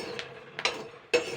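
Black chickpeas (kala chana) dry-roasting in a pan without oil or sand, giving three sharp, faint pops and clicks spread across a quiet moment.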